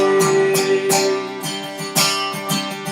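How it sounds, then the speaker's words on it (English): Bright strummed guitar riff with rhythmic chord hits over a steady band backing, loud and close. "we'll do 2 measures of the intro riff"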